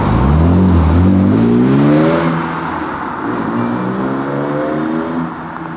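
BMW E36 328i inline-six with a Fox rear exhaust silencer, revving loud and close, the engine note rising in pitch and then settling to a steadier, quieter drone.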